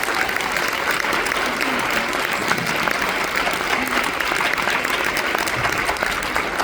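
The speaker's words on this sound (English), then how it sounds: "Can we give them a round of applause, please?" Audience applause at a winter band concert, dense, loud, continuous clapping filling the whole stretch with no talk.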